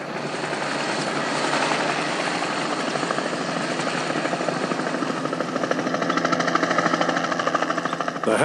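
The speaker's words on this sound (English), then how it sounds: "The helicopter will be used to transport the ewes to an otherwise inaccessible part of the park." A helicopter flying during a bighorn sheep ewe capture and transport operation in a park, its steady rotor chop and engine roar loud and continuous throughout, with no voices.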